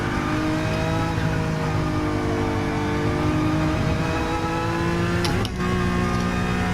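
A 2017 Honda NSX driving through turns on a track, a loud steady engine drone with rising and falling whining tones as speed shifts, a brief dip near the end.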